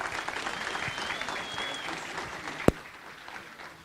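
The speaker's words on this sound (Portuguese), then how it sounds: "Uma salva de palmas." Audience applause at a front-end developer conference talk, a dense patter of many hands clapping steadily at moderate volume, ending with one sharp loud bang near the end.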